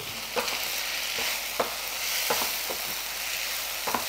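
Moringa leaves sauté in a pan with almost no oil over a very low flame, giving a soft steady sizzle broken by occasional light scrapes of a stirring spoon, with no voices.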